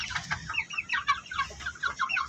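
Young Dong Tao cross Darag roosters cluck nearby in a rapid, overlapping string of short calls from several birds, with no talking.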